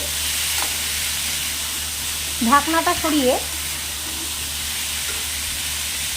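Pumpkin and potato pieces fry in a pan with a constant soft sizzle and hiss; someone speaks briefly midway.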